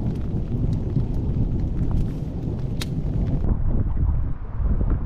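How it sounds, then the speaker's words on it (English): Strong wind buffeting the microphone at a lakeside wilderness campsite in the Boundary Waters canoe area, a loud continuous low roar with gusty rumble and no voices. "It's so windy out here!"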